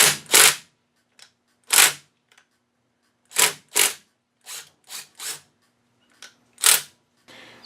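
Short bursts from an impact wrench working a 3/4 inch nut loose on a 1971 Evinrude 18 hp outboard, about eight sharp rattling bursts of varying length separated by quiet gaps, close and loud.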